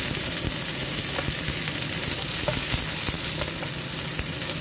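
Chillies sizzle steadily in a hot pan while being stirred, with a dense continuous frying hiss broken by occasional soft scrapes and clicks of the spatula, close and fairly loud with no talking.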